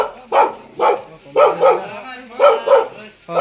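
An angry dog barks close by in a Philippine neighbourhood, about seven loud barks that come singly and in quick pairs with short pauses between them.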